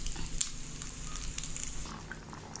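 Soft, steady sizzling of coconut and spices frying in a hot pan for channa masala, with a few small crackles and pops over a low background hum.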